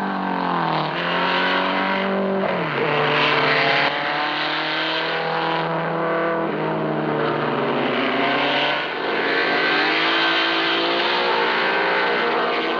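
A Porsche race car roars past at the 1958 Le Mans 24 Hours, its engine note sweeping downward and shifting pitch as it passes, loud and close with a sustained revving drone.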